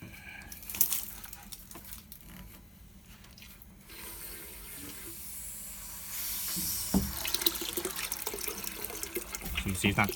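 Water and built-up pressure rush out of a home water heater tank as its valve is opened, a hissing, splashing flow that grows stronger toward the end, with a person talking over it.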